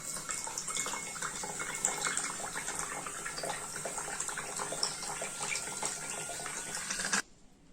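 Water gushes steadily from a bottle fountain in a school science experiment, a continuous splashing hiss that cuts off abruptly near the end.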